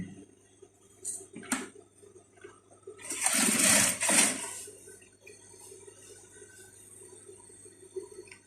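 Sewing machine stitching a curved seam on trouser leg pieces, a loud burst of running stitches in the middle with brief short runs before it, over a steady low motor hum.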